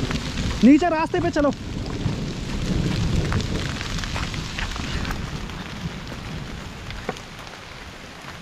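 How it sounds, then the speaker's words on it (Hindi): Heavy rain with hail comes down in a mountain forest in Uttarakhand, a dense, continuous patter with sharper ticks and hits, partly sheltered under trees, while a person briefly speaks near the start. "हाँ बहुत तेज बारिश लगना शुरू हो गया।"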